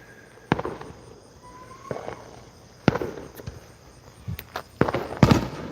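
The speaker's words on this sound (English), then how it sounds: "I heard the mortar shot come off in the wrong direction." Fireworks mortar shots go off outdoors in a backyard, several sharp booms and pops scattered over a few seconds, some near and loud, others farther off, with a faint whistle early on.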